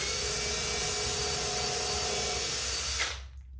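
A power drill bores a pilot hole into wood with a steady, loud whine that holds for about three seconds and then cuts off.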